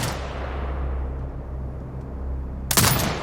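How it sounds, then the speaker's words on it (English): Automated turret fire at marked hostiles in Sniper: Ghost Warrior Contracts 2, a sudden loud burst of shots erupting near the end after a low, steady rumbling ambience. "Exit binocular mode and command the turret to fire."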